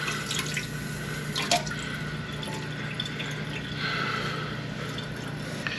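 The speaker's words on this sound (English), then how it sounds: "It'll take it a while to fill back up." A toilet tank refills after a repair, water trickling and dripping steadily into the tank at close range, with a few small knocks and splashes and no voices.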